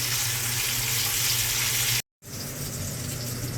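Pompano fish fries in hot oil in a pan, a loud, dense, continuous sizzle heard up close, broken by a brief silent cut midway before the sizzling resumes.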